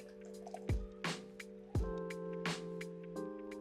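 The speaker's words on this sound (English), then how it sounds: "Pour it into a chilled glass" Mango lassi poured into a chilled glass, heard as a few thick, wet plops and drips spaced irregularly over a soft, steady tonal backdrop.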